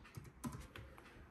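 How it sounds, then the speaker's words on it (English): Keys tapped on a Microsoft Sculpt Ergonomic keyboard, a few quiet uneven clicks close by over a soft background hum. "I'm just going to test if my keyboard is working now as well."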